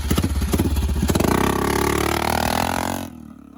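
A 2001 Polaris Sportsman 400 2x4 quad engine on a trail revs loud and close, its throbbing pulses rising in pitch before cutting off abruptly.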